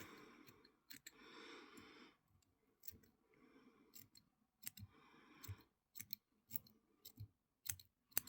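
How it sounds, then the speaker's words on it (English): Close, quiet snips of scissors cut fly tying material for a crayfish pike fly. The cuts come as irregular, sharp clicks separated by pauses, with soft handling noise between them. "If anyone has any recommendations for some real sharp scissors that actually hold their edge, can you just comment on the video, please?"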